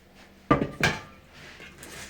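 Two sharp metallic clanks of a large cooking pot being set down and handled while packing sauerkraut, close by, followed by faint rustling.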